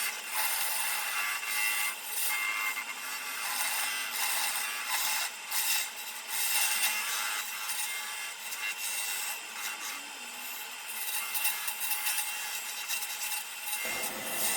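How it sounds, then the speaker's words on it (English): A square carbide tool shears steadily against a spinning wooden tenon on a lathe, a continuous bright rasping hiss with slight fluctuations that persists for the whole stretch before cutting off abruptly at the end. "I decided to finish the job with my square carbide tool"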